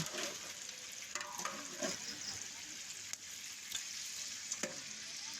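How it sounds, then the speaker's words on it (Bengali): Beef and lentils frying in a pot on a village stove, giving a bright steady hiss with occasional spoon scrapes and clinks as they are stirred, fairly quiet and close. "এবার হালকা নাড়ব সুন্দর করে মাংস আর ডাল মিশল করে দিলাম নাড়াচাড়া করে"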